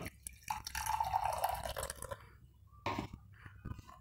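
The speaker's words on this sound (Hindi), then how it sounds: "अब थोड़ा सा पानी मैंने इसमें डाला" Water poured into a container holding a pinch of potassium permanganate, giving a short close splashing, dripping trickle that fades, followed by a few faint handling noises.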